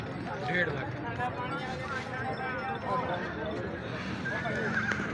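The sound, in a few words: horse neighing at a horse market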